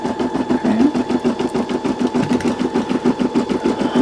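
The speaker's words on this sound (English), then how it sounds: "this is the portion that we're doing here that we're stitching around" An embroidery machine stitches a satin stitch around a Christmas ornament made in the hoop, with a loud, steady, rapid rhythmic chatter of needle strokes close up and no voices.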